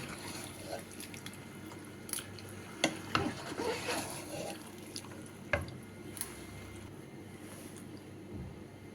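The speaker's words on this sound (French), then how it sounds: "je vais mettre ma tomate. Pareil, et je vais la saisir un peu aussi" Tomato sears with pork in a pan, a faint soft sizzle under occasional scraping and clattering stirs, quiet and close with no talking.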